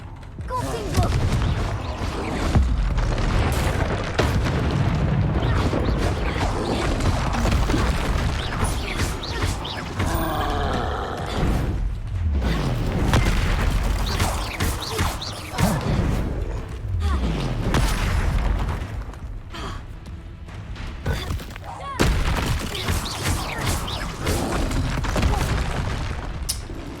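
Repeated Confringo blasting-spell explosions booming in the Hogwarts Legacy video game, loud and dense with mechanical creaks and rumbles, continuing almost without pause amid game action.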